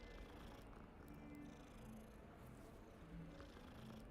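A cat in Hogwarts Legacy purrs softly and continuously, a low rhythmic rumble that carries through the whole moment with faint game ambience and no speech.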